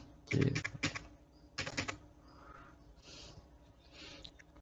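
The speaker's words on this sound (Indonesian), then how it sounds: "Langsung kita ketikkan." Quiet keystrokes on a computer keyboard come in short clustered bursts while data is entered into an accounting program, with faint room noise between them.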